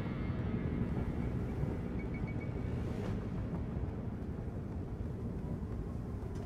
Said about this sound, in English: Helicopter.